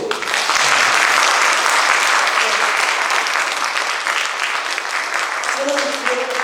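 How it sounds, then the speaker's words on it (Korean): A church evangelism meeting congregation applauds the pastors' wives in encouragement, a dense, loud, sustained wash of clapping filling the room, with a voice briefly rising over it near the end. "우리 사모님들한테 한번 격려의 박수"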